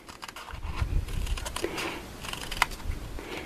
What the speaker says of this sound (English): Now I'm going to take my scissors and I'm going to cut just inside of that pencil line.